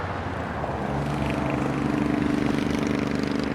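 Street traffic captured in stereo, a steady low engine rumble of passing or idling vehicles that swells slightly toward the end, continuous and moderately close with no voices.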